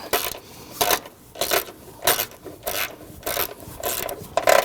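Quick ratcheting clicks come in short bursts as a fastener is snugged on the plastic coolant expansion tank of a 2010-2019 Ford Taurus 3.5L V6, close and crisp with brief pauses between pulls.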